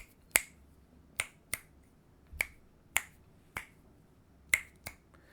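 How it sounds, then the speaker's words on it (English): Eight crisp finger snaps, close in front of a cardioid-pattern USB microphone, spaced irregularly with a dry, quiet background between them. "so if I snap my fingers"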